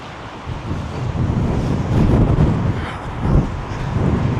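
Storm Amy's strong wind gusts through Glasgow city centre, roaring and buffeting close to the microphone and swelling and easing in waves over a steady rushing background.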